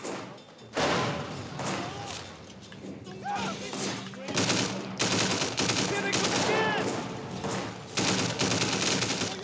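Rifle fire in the open-world action game Sleeping Dogs, a run of sharp repeated shots and bursts over busy game noise, with someone talking over parts of it.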